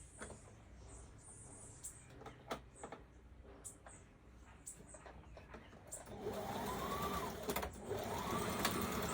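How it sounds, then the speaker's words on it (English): Soft clicks and taps give way to a sewing machine's continuous whirring hum as it runs, fairly close but quiet. "Put it under the sewing machine and we're stitching it the same way."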